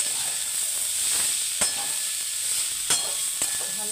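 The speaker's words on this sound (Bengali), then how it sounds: "সাইড করে রেখে তেল দিয়ে দিলাম" Leafy greens frying in a little oil in a pan give a steady broadband sizzle and hiss, with a few sharp pops and stirring clicks standing out close by.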